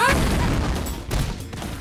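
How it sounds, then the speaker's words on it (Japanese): Explosion in the fighting game Samurai Shodown (2019), a sustained loud broadband blast lasting nearly two seconds with a second burst midway, no voices. "爆発。"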